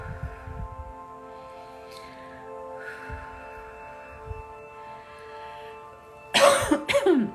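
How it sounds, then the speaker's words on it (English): A person coughs several times in a quiet room with a soft musical drone behind, faint scattered coughs early and a loud, close burst of coughing near the end. "Sorry, I'm having to cough to move this energy for you."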